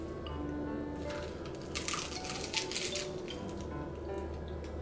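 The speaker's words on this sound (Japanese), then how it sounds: "ローソンの海苔の音いきます。" Nori wrapped around a Lawson convenience-store mentaiko rice ball gives soft, close crunches as it is bitten or broken. A few short crackly bursts rise over a quiet background.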